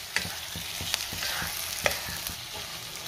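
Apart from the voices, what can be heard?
prawns being stirred and fried in masala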